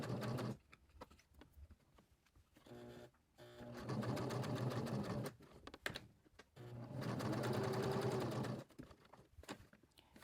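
A sewing machine stitches scrap fabric for a small notebook cover in several bursts of rapid, even chattering, a few seconds each, separated by short pauses, close and moderately quiet.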